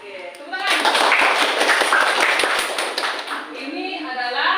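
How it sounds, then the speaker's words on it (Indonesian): A group claps together in steady applause, close and loud for several seconds, at a floor gymnastics practice session. The clapping tapers briefly near the end. "Oke, tepuk tangan."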